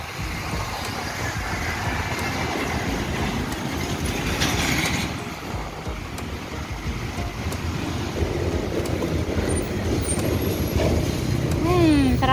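Evening road traffic in Manila between Tandang Sora and Batasan Hills with large trucks passing, a continuous low rumbling engine and tyre roar heard from inside a delivery vehicle, growing slightly louder toward the end.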